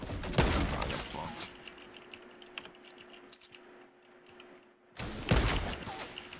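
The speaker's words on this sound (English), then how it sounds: "They're just non-stop shooting, bro." Rapid gunfire in the Fortnite Battle Royale video game, a dense crackle of shots that runs without pause, loud at the start and end with a brief lull near the middle.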